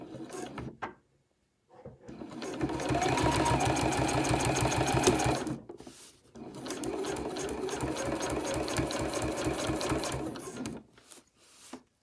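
A sewing machine back stitches a zip onto a bag in two bursts of rapid, rhythmic stitching, close and loud, each starting and stopping with short clicks and pauses between.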